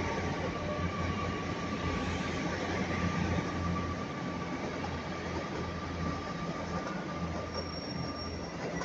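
A GWR Class 802 train at a station platform in Taunton or St Austell, a steady rolling rumble with a faint high wheel squeal, heard fairly distant and continuous with no speech.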